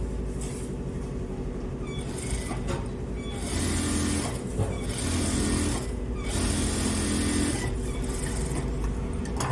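A sewing machine stitches a plain blouse, running in a fast mechanical whirr that starts and stops in short bursts with brief pauses between runs, close and steady.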